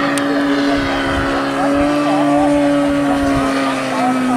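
A Great Planes Reactor Bipe RC model airplane on floats takes off from water. Its small engine gives a loud, steady high-pitched whine with shifting pitch over the whole span, and voices are faintly audible beneath it.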